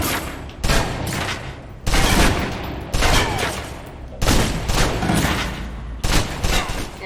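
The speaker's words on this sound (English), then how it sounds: "Now, let's move on to the submachine gun. Now let's empty the clip." A submachine gun in the shooter Alpha Protocol emptying its magazine in five or six loud, rapid bursts separated by brief pauses. The sound is close and dense, with no talking.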